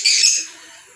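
Pet birds give a single sharp, bright squawk at the start, loud and close, fading quickly into quiet background noise within the second.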